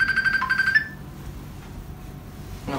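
Telephone ringing with a brief electronic ring tone at the start that cuts off quickly, leaving a quiet room.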